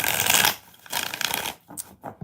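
Tarot cards shuffled by hand in two quick riffling bursts, crisp papery flutters separated by a brief pause and a few softer snaps at the end, close and fairly loud with no talking.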